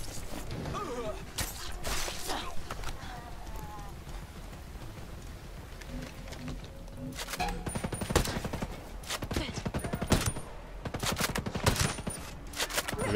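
Rapid bursts of gunfire in the tactical shooter Ghost Recon Breakpoint, fairly close and repeated in clusters, with heavier volleys in the second half and game ambience in between.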